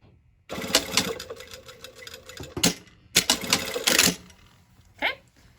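A home sewing machine stitches a shirtdress sleeve placket at an angle in three bursts: a long quick whirring run, a shorter second run after a brief pause, then a final short spurt.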